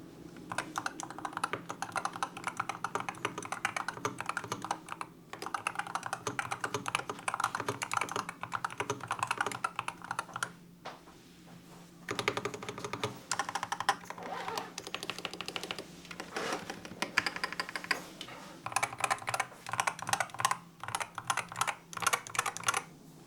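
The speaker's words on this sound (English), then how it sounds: "Here's what the keyboard sounds like." Rapid continuous typing on a Boyi 66Pro mechanical keyboard with PBT keycaps and internal dampening, dense close clacks in steady bursts with a brief pause midway, no voices.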